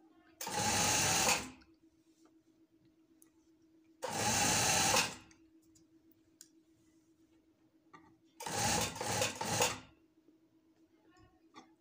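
A home sewing machine stitches a shirt in three loud, whirring runs of a second or so each, separated by pauses in which a faint hum and small clicks remain.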